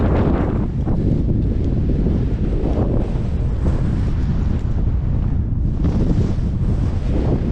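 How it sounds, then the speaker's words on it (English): Bitterly cold wind roars across the summit of Ben More on the Isle of Mull, a loud, constant gusting rumble that buffets the microphone throughout with no break. "that wind is bitterly cold"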